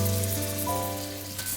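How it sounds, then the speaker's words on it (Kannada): Vegetables join wilted greens in a hot pan for vegetable pulao, producing a brief, steady, close sizzle of frying with no voices. "ಈಗ ಇದಕ್ಕೆ ನಾನು ಏನೇನು ತರಕಾರಿ ತೊಗೊಂಡಿದ್ದೆ ತರಕಾರಿಗಳೆಲ್ಲ ಹಾಕ್ತಾ ಇದ್ದೀನಿ"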